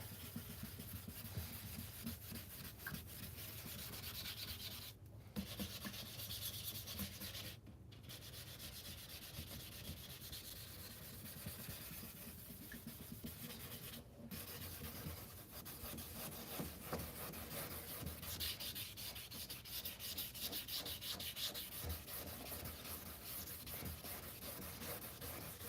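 Wet sanding of a car headlight on a GMC Envoy with 2000 grit sandpaper, a continuous faint scratchy rubbing with brisk back-and-forth strokes and a few short pauses, fairly close and without voices.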